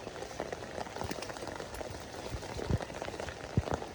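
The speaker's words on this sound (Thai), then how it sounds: "โอ้ฝนอันนี้ก็ตกเลย" Steady rain falls outdoors at a village house, a dense, even patter on surfaces with a few louder nearby drips standing out, and no one talking.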